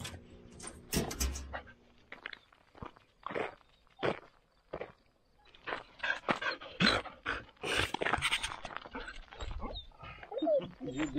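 A dog whimpers and whines with scattered footsteps and scuffling nearby, the sounds coming in short irregular bursts with brief voices mixed in.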